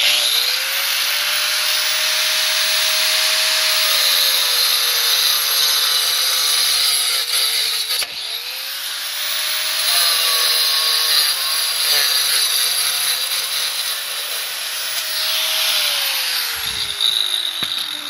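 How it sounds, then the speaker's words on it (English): A 4-inch angle grinder fitted with a concrete blade notches the corner of a paver, its loud, steady high-pitched whine and gritty cutting roar running continuously, with a brief dip midway before the cut resumes. "4-inch grinder, which has a concrete blade on it, and I'll notch this corner right off"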